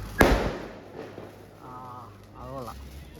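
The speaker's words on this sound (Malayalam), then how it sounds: "ആകാശ വെടി അല്ലെങ്കിൽ റോക്കറ്റ് വിടാൻ പോവുകയാണ്" A sky rocket firework launches with a sharp close pop and whoosh, followed by faint distant crackle while soft voices murmur in the background.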